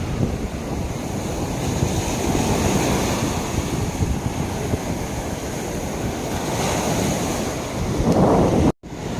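Sea waves roll onto the beach at Na Jomtien, Thailand, a loud continuous wash of surf with wind buffeting the microphone throughout and a brief dropout near the end.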